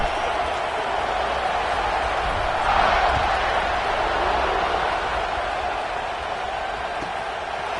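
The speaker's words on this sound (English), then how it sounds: "this crowd is buzzing after that last score" A football stadium crowd keeps up a steady, loud roaring buzz after a touchdown, a dense wall of distant cheering and chatter that swells slightly midway and never drops out.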